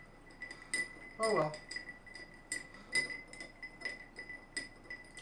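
Bar spoon stirring a cocktail over big ice in a mixing glass, two-handed, giving sharp intermittent clinks and taps in an irregular rhythm, close and moderately quiet, with a brief spoken remark partway through.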